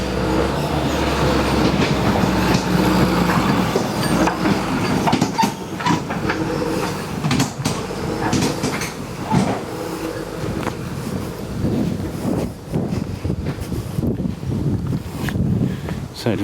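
A tractor comes along a farm track. Its heavy mechanical rumble and rattle hold steady throughout, mixed with gusty wind buffeting the microphone, and a voice is heard now and then.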